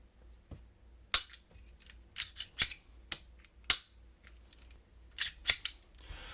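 Diamondback DB9 pistol with its heavy, single-action-only trigger being pulled and resetting, a series of sharp metallic clicks spaced irregularly, some in quick pairs, close and crisp against near silence.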